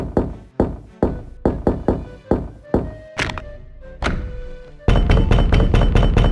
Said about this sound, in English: we hear repeated knocking, seemingly banging on Dorn's head